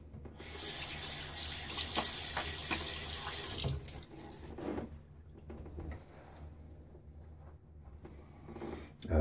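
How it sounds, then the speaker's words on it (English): A tap runs loudly into a sink for a few seconds, then water splashes in brief bursts as the flow stops, leaving quieter dripping and movement. "Splash some water on my face again."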